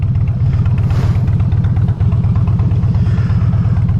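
A motorcycle, one bike from a local club riding into town, rumbles loud and close with a steady, throbbing engine note throughout, briefly dipping once before carrying on.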